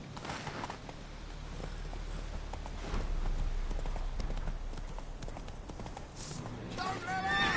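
A horse gallops through The Witcher 3: Wild Hunt, with rhythmic hoofbeats close by that grow louder midway, under a voice and other game sounds near the end.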